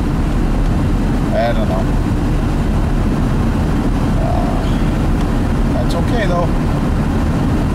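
Cabin drone of a Chevrolet Tahoe driving with the windows up, a steady, loud low engine and road rumble running throughout, with brief bits of conversation from people inside.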